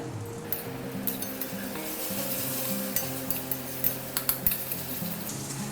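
Chilli, Kashmiri chilli, cumin and coriander powders sautéing in a pan, with a continuous close sizzle, spoon stirring, and several sharp metallic clinks toward the end.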